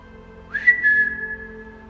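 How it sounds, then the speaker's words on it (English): A single person whistles one rising then sustained note, clear and close against a quiet low hum, inside an abandoned hospital. "If I whistle, can you whistle back?"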